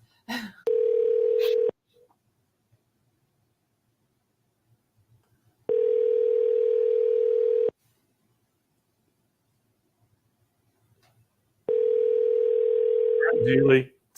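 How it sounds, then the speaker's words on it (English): A telephone rings out on an outgoing call, giving three steady two-second tones with long silent gaps between them. A brief noise follows as the call connects. "So let's give her a call right now, Kennedy."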